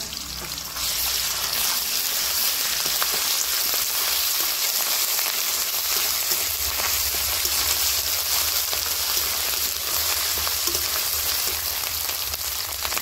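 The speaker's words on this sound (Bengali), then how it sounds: "আদা ভাজা হয়ে গেছে," Ginger paste fries with fried chopped onion in a pan for a mixed vegetable curry, giving a steady, dense sizzle that carries evenly from start to finish with no talking.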